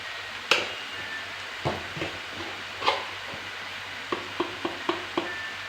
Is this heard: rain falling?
no